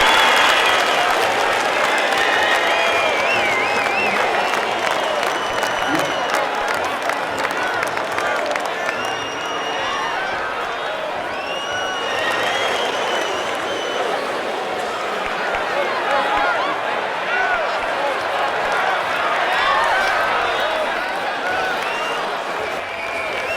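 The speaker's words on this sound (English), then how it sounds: "Well-deserved applause for the magnificent four who have managed to maintain the winning pace." A crowd at the finish of a million-dollar pigeon race in Sun City applauds and cheers for a long, steady stretch, loud and dense, with a commentator's voice and crowd chatter running over it.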